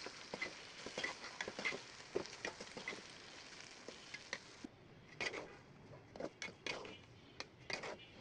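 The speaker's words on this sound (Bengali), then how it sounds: "ভালো করে নেড়েচেড়ে মিশিয়ে নেব।" Restaurant-style chow mein noodles are stirred and tossed in a pan with soft, quiet scraping and light sizzling, in irregular bursts of patter and clatter.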